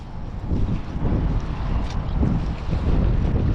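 Strong wind blusters across the microphone in continuous rough gusts, loud and close, with no voices.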